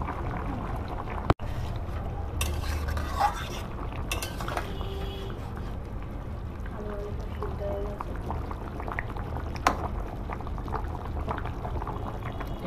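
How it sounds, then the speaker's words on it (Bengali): Broth of potato and soybean stalk curry bubbles steadily in an uncovered pot, a continuous close simmering gurgle with a sharp knock near the start and occasional faint clinks. "তো বন্ধুরা এখানে ঝোল ফুটে গেছে।"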